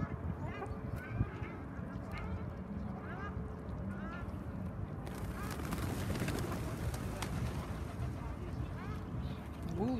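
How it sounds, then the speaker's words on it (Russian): A flock of pigeons gathers in Moscow's Ekaterininsky Park. Their soft fluttering and cooing blend with honking calls from other waterfowl and an open outdoor hum that grows busier partway through. "Голуби как саранча."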